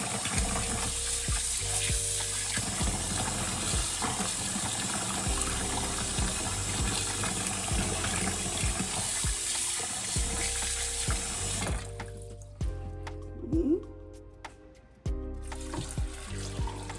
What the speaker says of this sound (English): So you keep rinsing till everything is off.